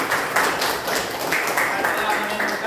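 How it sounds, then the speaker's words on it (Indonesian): A classroom audience applauds presentation group 1 with steady, dense clapping that lasts the whole stretch at moderate volume, with voices mixed in. "terima kasih, tepuk tangan kepada kelompok 1"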